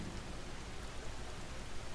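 Steady rain in a meditation soundscape, a dense, even hiss of falling drops with no breaks, quiet and continuous throughout.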